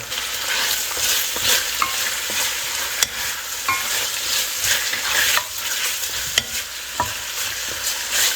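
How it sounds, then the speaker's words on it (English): Beef for jollof rice is stirred around a hot pan, a constant frying sizzle broken by scraping strokes and sharp clicks of the utensil against the pan, close and continuous with no talking. "So I'm just going to keep stirring this around all this meat"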